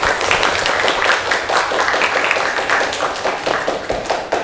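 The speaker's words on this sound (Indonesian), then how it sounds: "Berikan aplaus untuk Nadiana Setia Rahayu" A classroom audience claps for a student in sustained, dense applause, steady and fairly loud throughout, with individual hand claps audible in the mix.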